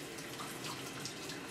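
Warm water runs steadily from a tap at a dog grooming station, a continuous soft rushing hiss at a low, even level with no one talking.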